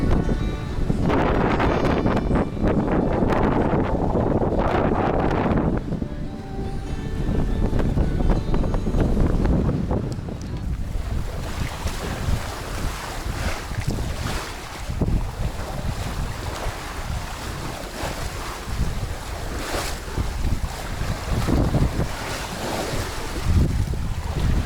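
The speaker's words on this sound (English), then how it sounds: "the gusts are getting a little more." Strong wind gusts buffet a sailboat at sea, roaring across the microphone over rushing waves and hull wash, loud and continuous with surging bursts.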